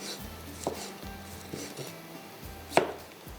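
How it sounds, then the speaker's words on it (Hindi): An onion for chicken kalonji is chopped on a board, a steady series of close knife knocks in a loose rhythm with one sharper hit near the end, no voices heard. "थोड़ा इसको और चॉप कर लीजिएगा।"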